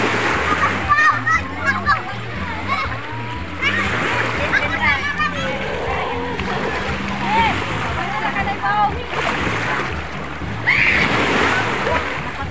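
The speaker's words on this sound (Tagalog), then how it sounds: "Lakas kasi ng alon dito guys." Strong ocean waves washing and splashing at a beach, a steady rushing surf that runs throughout with children and adults talking and playing nearby.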